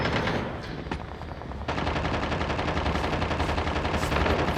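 Dense, continuous automatic gunfire from the mobile shooter Call of Duty Mobile, loud and steady with rapid repeated shots that thicken after a brief dip early on, no voices.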